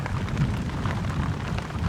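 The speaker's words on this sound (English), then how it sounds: "And it's raining hard." Hard, heavy rain pours steadily onto a forest survival shelter, a dense continuous wash of drumming and hiss with no talking.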